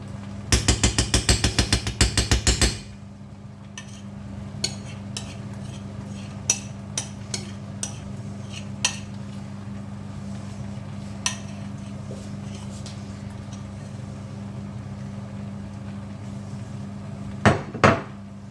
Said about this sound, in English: I'm gonna mix them in my risotto.